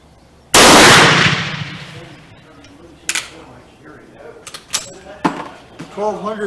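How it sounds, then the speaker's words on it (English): A Springfield cadet trapdoor rifle fitted with a new replacement barrel fires one loud, sharp shot that rings out and decays over about a second, followed by nearby clicks, clanks and people talking. "The first shot was this new barrel."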